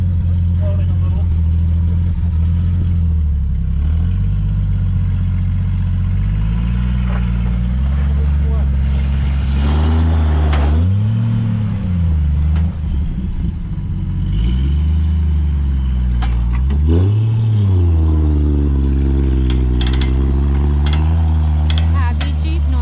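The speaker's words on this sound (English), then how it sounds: "Happy Jeep noises." A Jeep engine on a trail ride, loud and close, idling and then revving in several rising and falling surges with some clatter, while people talk over it.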